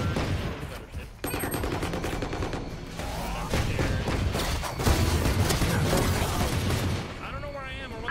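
Rapid gunfire bursts and impacts from the Valorant match on the Lotus map, loud and dense throughout, mixed with game effects and a voice talking over the action.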